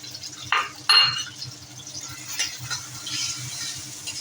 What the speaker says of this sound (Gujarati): આ બધું સાતળવા દઈશું।